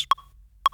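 Two crisp metronome clicks, evenly spaced about half a second apart, sharp and close with silence between.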